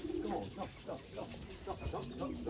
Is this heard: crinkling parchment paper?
no